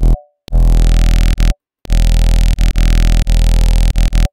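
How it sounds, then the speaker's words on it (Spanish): A Minimal Audio Ripple Phaser plugin with cross feedback engaged colors a loud, buzzy sustained synth tone that cuts in and out in abrupt bursts separated by brief silences, with no talking. "Puedes hacer que el sonido haga cross feedback con este botón de acá."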